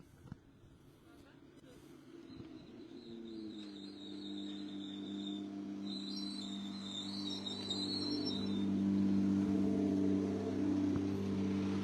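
Porsche rally car arriving at a stage stop on the Rallye des Vins-Mâcon, its engine rising from a low idle to a louder, steady drone that builds over several seconds, with a faint high whine above it.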